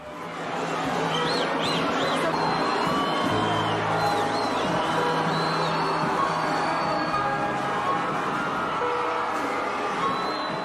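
Crowd in Brazil celebrating the country's fifth World Cup title, a dense, continuous roar of cheering and whooping voices with whistles and shouts rising above it, loud and steady throughout.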